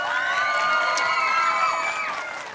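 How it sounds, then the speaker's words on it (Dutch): An audience at a Frisian event cheers and claps for Witske Bloemhof, a short burst of crowd whoops and shouts at moderate loudness, tapering slightly toward the end. "Een applaus voor Witske Bloemhof"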